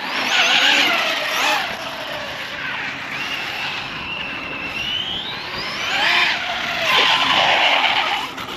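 An Arrma Big Rock RTR RC truck drives and skids, its electric motor whining loudly in rising and falling sweeps while the tires scrub across the ground, up close with no talking.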